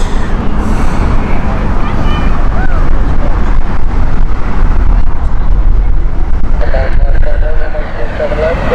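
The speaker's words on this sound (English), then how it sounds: "Wind is picking up though." Steady loud wind roar at Heathrow Airport, broadband and constant throughout, with a low traffic or engine rumble beneath and faint voices.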